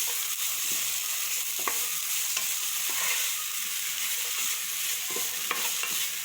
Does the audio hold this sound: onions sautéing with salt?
yes